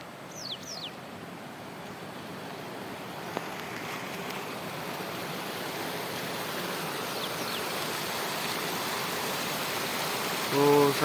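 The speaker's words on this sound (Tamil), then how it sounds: "இந்த தண்ணி சவுண்டை பார்த்தீங்களா? தண்ணி விழுகிற சவுண்டு நல்லா இருக்குங்க பார்க்குறதுக்கு." Falling water from a waterfall along a morning drive, a steady, even rushing hiss that fills the whole stretch at moderate loudness and builds slightly toward the end.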